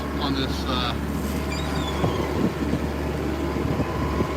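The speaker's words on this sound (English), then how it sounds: "Starting to feel the wind starting to pick up. I don't know if you guys can hear the wind." Wind blows steadily across a boat out on choppy water, a broad continuous rush with some brief higher tones early on.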